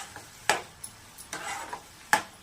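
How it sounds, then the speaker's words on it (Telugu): A spatula scrapes and taps in a pan of mushroom curry cooking in oil. The strokes come as a few faint, scattered clicks and scrapes over a low sizzle, with no talking. "మష్రూమ్ కూర కొంచెం నూనెలో ఉడికినిద్దాం"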